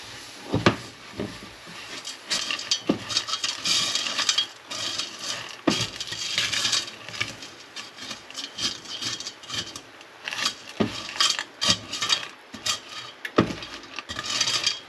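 Melting sugar for millionaire's shortbread being stirred in a pot, with irregular clinks and scrapes of a utensil against the pot, close and moderately loud over a steady background hiss.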